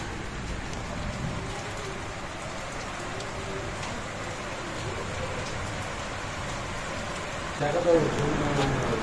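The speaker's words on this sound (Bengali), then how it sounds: "বৃষ্টির আওয়াজ পাচ্ছ, দেখো মেঘ দেখো।" Rain falls outside near a balcony during a stormy night, making a steady wash of patter on surfaces with a brief louder bump near the end, while a voice can be faintly made out.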